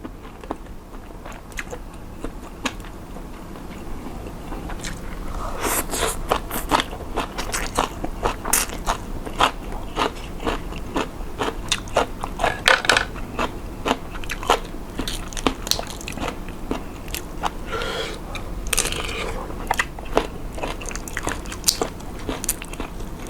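Close, steady crunching and biting of baked shrimp with glass noodles, sharp crackly chews repeating for over twenty seconds with no talking.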